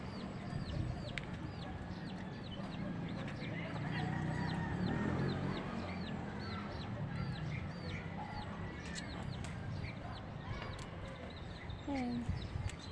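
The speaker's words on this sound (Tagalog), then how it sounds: "may alaga silang manok" Pet chickens clucking in a backyard garden, brief repeated clucks scattered over steady outdoor bird chatter and background noise, moderately faint.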